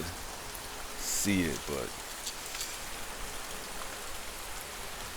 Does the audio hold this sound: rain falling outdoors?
yes